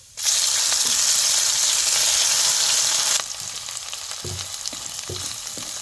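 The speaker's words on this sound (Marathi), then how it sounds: "एक पळी तेल होतोय ह्याच्यात फोडणीसाठी एक चमचा मोहरी टाकायची" Loud hiss and crackle as mustard seeds hit hot oil, spluttering intensely for a few seconds before settling into a softer sizzle with a few clunks.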